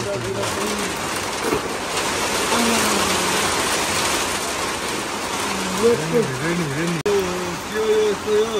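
Steady rain pours down in New Zealand in a dense hiss throughout, with a voice speaking intermittently over it.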